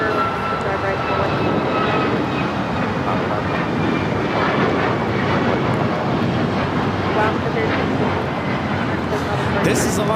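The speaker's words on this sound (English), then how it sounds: "This is Alaska Airlines 1353 taking off to Guatemala City on the MAX 8" A loud, steady roar of an Alaska Airlines Boeing 737 MAX 8 jet taking off from LAX, broadband engine noise with wind buffeting holding throughout, with voices talking over it.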